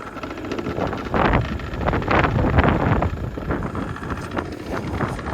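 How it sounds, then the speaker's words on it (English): Strong wind buffets the microphone in loud, gusty bursts that rise and fall steadily throughout, with no voices, beside a micro digger. "Oh, it's windy."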